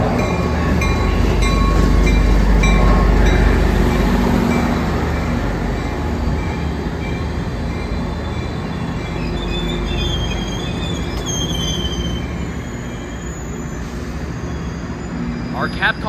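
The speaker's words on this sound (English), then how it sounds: "A freight locomotive and the new scheme." Tri-Rail passenger train with a freight locomotive passing the MIA Airport station, rumbling loudly and close with squealing wheels, then fading into a quieter roll with a high squeal near the end; people talk over it.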